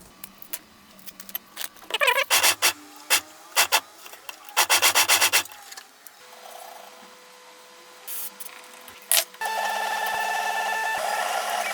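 A strip of velcro being cut for a homemade quadcopter build. Scattered scratchy rasping bursts and short tearing strokes come close up, followed by a steadier hiss at the end.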